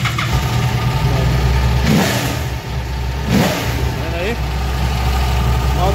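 A motorcycle engine, running again after a blown fuse was replaced, idles steadily with a low rumbling hum, rising briefly in a couple of revs, close by.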